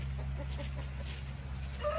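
Wet backyard chickens clucking softly in a chicken run during a heavy thunderstorm, a few short, faint calls over a steady low rumble of rain and storm noise.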